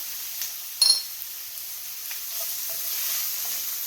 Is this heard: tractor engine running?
no